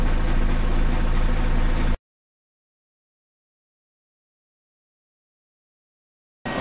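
Diesel engine of a U Mole MTS suction excavator truck running steady in PTO mode, a loud continuous drone that cuts out abruptly to silence after about two seconds and returns briefly at the very end.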